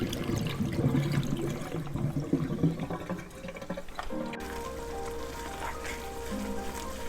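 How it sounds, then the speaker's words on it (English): Mussels being rinsed a second time under running water, a steady, close, splashy wash that shifts partway through to a smoother, humming flow with no one talking. "I'm just rinsing the mussels for a second time before I add them"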